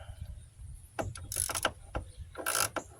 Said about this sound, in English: just hook your ratchet to it